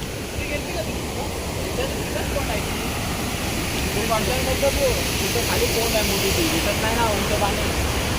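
Water pours down from above into a village stream, a steady, loud, broad rushing hiss. A faint voice is partly buried under the flow.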